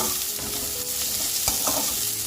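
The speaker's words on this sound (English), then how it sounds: "Fry this for some more time" Onions and green chilies fry in a pan with a constant crackling sizzle, broken by scraping strokes of a stirring utensil near the middle and end, close and fairly loud.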